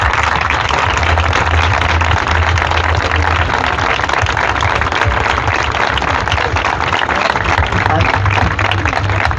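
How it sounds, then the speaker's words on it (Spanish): An audience at a teachers' tribute exhibition in Hellín breaks into loud, dense applause that holds steady from start to finish. "me gustaría que le dieran un aplauso a todos y cada uno de ellos"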